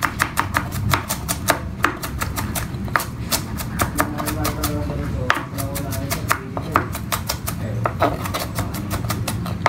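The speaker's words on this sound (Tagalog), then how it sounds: "Iwain natin ito" Halabos seafood is cut with a small knife on a board, a steady run of sharp, close chopping taps at a brisk rhythm while people talk underneath.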